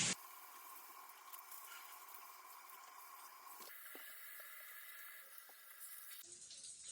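A rainfall showerhead with handheld sprays water steadily, a broad hiss of falling water at close range that shifts slightly in tone midway and changes again near the end.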